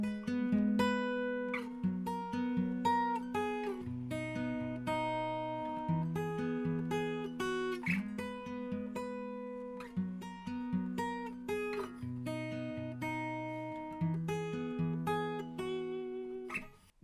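Acoustic guitar plays the instrumental section of a song, picked notes and chords flowing in a steady repeating pattern, close and fairly soft, with no talking.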